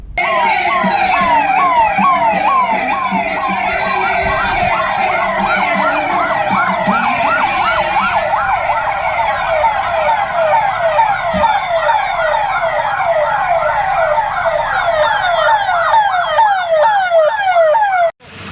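Several police sirens wail loudly and continuously during a town street rally, their rising and falling tones overlapping as the vehicles pass close by, with faint traffic beneath.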